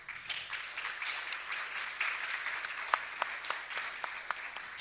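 Distant audience applause in a conference hall, steady soft clapping with scattered sharper claps, faint and sustained.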